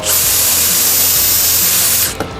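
A Bosch drill drives a screw into wood in a woodworking setup with a Bosch GTS 10 XC table saw, giving a loud, steady high whir that cuts off sharply near the end with a short click.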